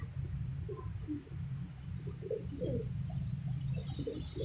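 Soft, low cooing from a pigeon in a breeding pair, repeated in gentle throaty bursts close by under faint background rustle.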